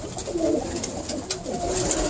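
Unpaired pigeon cocks in a cage give low, rolling coos, several overlapping murmurs carrying steadily across the clip at moderate volume without speech.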